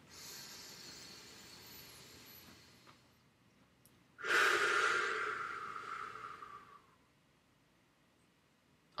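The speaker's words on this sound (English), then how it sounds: "Take a deep breath." One deep, slow breath from a single person, drawn in audibly and close, swelling for a few seconds before fading into quiet.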